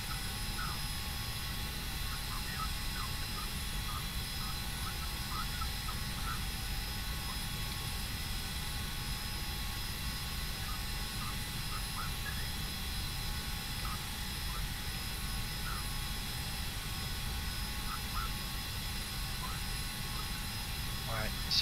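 An Embraer Phenom 300 business jet climbing after takeoff in FSX, heard as a steady, unbroken engine roar that holds at one level throughout with no talking.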